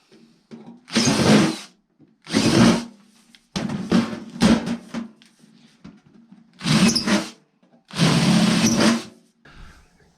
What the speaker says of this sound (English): With all the holes drilled